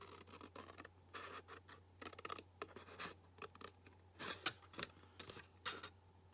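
Cardboard being cut to make boxes with a punch board and scoring board, giving a series of close, dry scraping and slicing strokes in short irregular bursts, with no voices.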